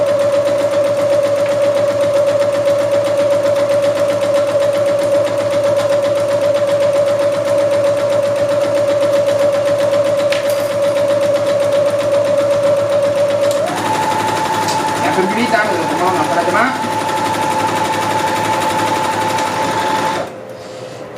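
Domestic sewing machine stitching fabric for a jumpsuit, a rapid continuous mechanical whir with a steady tone that shifts pitch partway through as stitching resumes, briefly interrupted by handling clicks, then stopping at the end; no talk.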